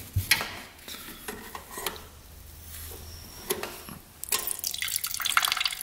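Water drains in uneven drips and splashes from an ATV differential on a cheap plowing quad, with sporadic nearby splattering and a heavier stream of splashing toward the end.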